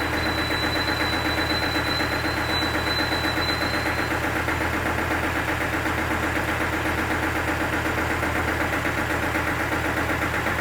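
A restored 1996 diesel Bullet motorcycle engine runs at a steady idle for the whole stretch, a constant loud, even throb with a close-miked, unbroken thump and no speech over it.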